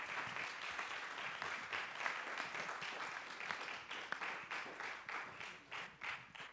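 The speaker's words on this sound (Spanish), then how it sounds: "un aplauso para nuestros ponentes" Audience applause for the speakers at a public management student conference, steady dense clapping throughout, loud and close, with no talk over it.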